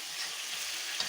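Ginger-garlic paste frying in a pan, a short burst of bright hissing sizzle with soft stirring scrapes underneath, close and steady.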